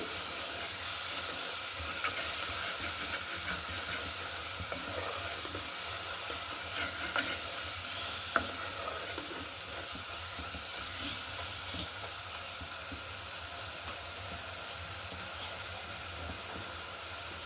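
Dried fish sizzles and hisses steadily in a pan with vegetables, with faint stirring scrapes and no voices.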